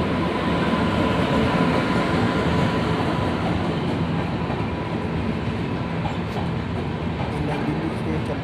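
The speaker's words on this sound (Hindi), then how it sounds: "ये कालका नई दिल्ली शताब्दी आ रही है, जो नई दिल्ली से कालका के लिए जाएगी।" The New Delhi–Kalka Shatabdi express train arrives at Chandigarh station, a loud steady roar of rolling wheels and carriages passing close by, continuous throughout with a faint ongoing hum.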